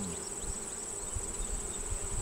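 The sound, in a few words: honey bees buzzing in hive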